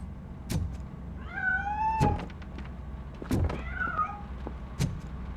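Cat in RoboCop Rogue City meowing several times in quick succession, clear rising and falling cries standing out over a low hum, followed by scuffling and knocking as it escapes.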